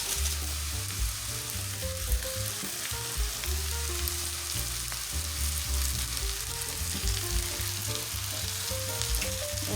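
Cabbage frying in a pan gives a steady, busy sizzle with crackling and a low rumbling undertone, moderately loud and close, with no speech.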